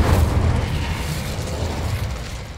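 The Incendio fire spell is cast in the video game Hogwarts Legacy, producing a loud, dense whooshing roar of flame that starts with a deep boom and sustains steadily, slowly fading over a few seconds.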